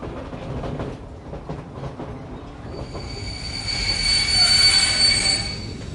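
Freight train wagons roll along the rails with steady low rumble and clatter, then a loud, sustained high metallic wheel squeal rises and holds near the end, close by and alone.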